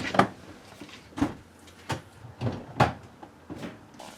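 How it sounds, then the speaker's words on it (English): The doors and rear gate of a 2005 GMC Yukon Denali are opened in quick succession, giving a series of soft thuds and latch clicks spaced irregularly, nearby and moderately loud with no talking. "So I'm going to show you that by opening the left rear door and the right rear door and the gate"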